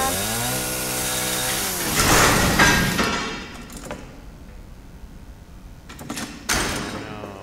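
A door is forced open in the horror VR game Resident Evil 7 biohazard, with grinding and scraping that rises into a harsh burst, then trails off into quieter clunks and a final knock.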